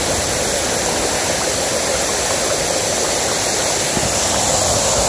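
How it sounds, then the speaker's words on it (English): Wright Falls in Ricketts Glen pours heavy flow into its creek, a dense, close, continuous roar of rushing water with no voices over it. "It's a lot of water in the waterfall."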